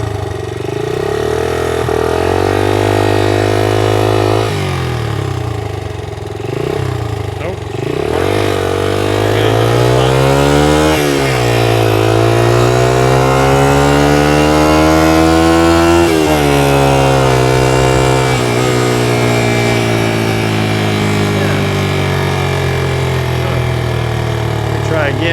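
A 1982 Honda XL80S small motorcycle engine revs repeatedly, its pitch sweeping up and falling back in several loud, close bursts over a steady idle, continuing for the whole stretch.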